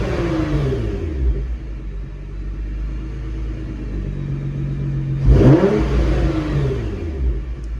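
Nissan GT-R with a titanium exhaust revving, heard from inside the cabin: a steady low rumble at idle, then one sharp rev that swells loudly and falls away again near the end.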